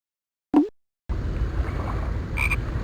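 A single loud, close frog croak at a pond, then a pause before a steady outdoor background of water and wind, with a faint high chirp near the end.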